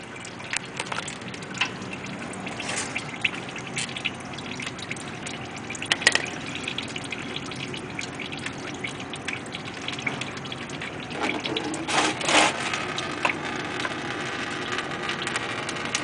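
Transmission fluid drains steadily from the pan plug of a 2003 Audi TT, a continuous close gushing and trickling stream with occasional drips and small splashes, no talk.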